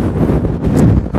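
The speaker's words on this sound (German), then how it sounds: "hier ist es sehr windig, hier weht es richtig durch." Strong wind at St. Margaret's Bay, buffeting the microphone with a loud, low, rumbling roar that surges and dips over about a second, with no other sound standing out.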